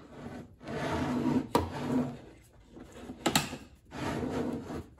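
A wooden workbench drawer glides in and out on its drawer slides several times, each close-range scraping rub lasting a second or so, broken by sharp knocks as it stops, with no talking.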